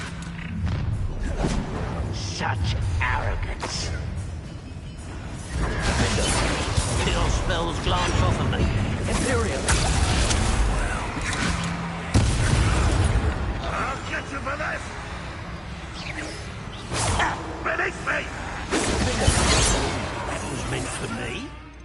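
Blasting-spell explosions in a PS4 game, repeated bursts and thuds with whooshes spread over about twenty seconds, mixed with game voices and a player talking over them.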